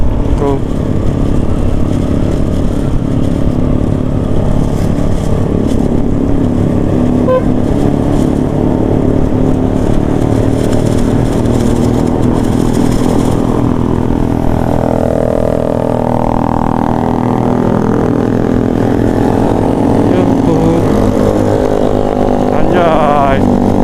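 Loud motorcycle exhausts on a road at night during a holiday homecoming trip, engines droning and revving up close and passing by, with people chattering over the noise.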